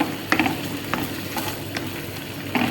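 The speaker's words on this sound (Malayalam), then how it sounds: "ആദ്യം ചിക്കനെ ഒന്ന് ആ ബട്ടറിൽ ഒന്ന് വശക്കെടുക്കുക." Chicken pieces frying in butter in a pan, a steady close sizzle with occasional scraping stirs from a utensil.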